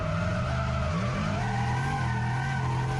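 A Lexus drift car slides around a track corner, tyres squealing in a long sustained skid over a steady engine drone, loud and close throughout.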